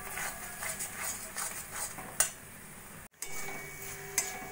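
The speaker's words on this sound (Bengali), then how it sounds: "এইভাবে নাড়া দিয়ে দিয়ে 5-7 মিনিট মতো আমি রান্না করে নেব।" Coconut halwa being stirred in a pan, with soft scraping and the light tick of a utensil against metal, fairly quiet and repeated, plus a couple of sharper clinks and a brief drop-out.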